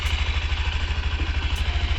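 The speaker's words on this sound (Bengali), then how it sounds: "সো এই হচ্ছে আইডল সাউন্ড" A 2025 Honda SP 125 motorcycle idles close by with an even, rapid low thump and a smooth, steady drone and no voices.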